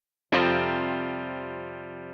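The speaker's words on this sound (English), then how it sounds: "What I've got is a guitar track," Clean electric guitar chord through an amp model, a single strum after a brief silence that rings out sustained and slowly decays, loud and alone.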